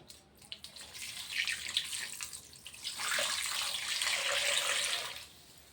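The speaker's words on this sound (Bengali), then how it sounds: "এবার আমি জল দিয়ে দিচ্ছি" Water pours into a dal mixture in a steady splashing stream, starting softly, swelling louder midway and tapering off at the end, close by with no voices.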